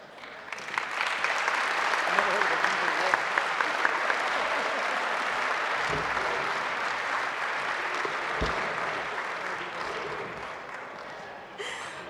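A stadium-style crowd at a football hall of honour ceremony bursts into loud, sustained applause and cheering that swells, holds and slowly fades.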